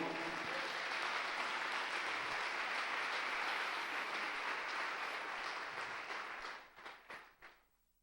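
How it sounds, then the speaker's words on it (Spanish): A church congregation applauds for the Lord, a long wash of dense clapping that holds steady and then breaks into a few scattered final claps as it dies away. "Denle un fuerte aplauso a ese Señor"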